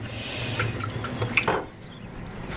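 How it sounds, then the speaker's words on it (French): Chicken pieces for barbecue skewers rinsed under a running kitchen tap, a steady close splash of water with drips and brief wet squelches as the meat is handled, the flow easing off near the end. "Et ensuite, je vais le rincer. Je le rince."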